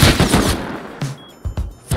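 Loud, close bursts of automatic AK rifle fire in the game Rust, a rapid string of sharp shots followed by a few more separate cracks.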